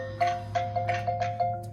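A Google Nest battery doorbell plays its Halloween chime: a spooky tonal melody of several quick, evenly spaced notes over a sustained hum, fairly quiet and close, with no talking.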